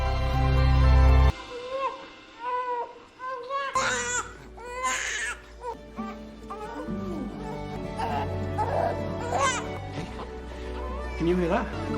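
Newborn infant crying just after a caesarean delivery in an operating room; after a loud opening burst, repeated wailing cries with whimpers rise and fall at close range, with other sounds in the background.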